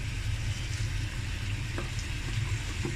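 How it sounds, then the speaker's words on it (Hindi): Marinated chicken shallow-frying in a little oil makes a continuous close sizzle over a low rumbling hum, with a few light clicks scattered through, and no one speaking. "अब ये देखिए उसको मैं शैलो फ्राई, ये देखिए फ्रेंड्स, मैंने बहुत कम इसमें ऑयल डाला है।"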